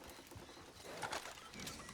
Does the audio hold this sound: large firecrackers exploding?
no